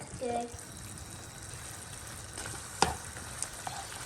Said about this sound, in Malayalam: ഇനി നല്ലപോലെ ഹൈ ഫ്ലെയിമിൽ ഒന്ന് സോട്ട് ചെയ്തെടുക്കുക.